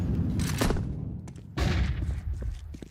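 Grenades exploding in a Counter-Strike match, two loud booming blasts about a second apart with rumbling tails and scattered gunfire around them.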